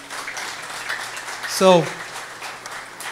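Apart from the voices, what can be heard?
audience applause in a church hall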